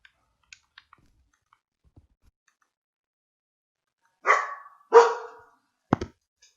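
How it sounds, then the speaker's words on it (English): A dog barks twice in quick succession, loud and close, followed by a sharp double yelp, with faint clicks scattered through the quiet before. "I am so sorry about the barking dog."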